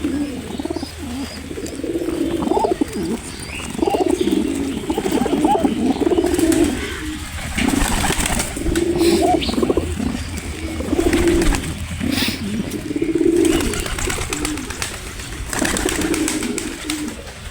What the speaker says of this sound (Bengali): এই দেখো কি সুন্দর কবুতর।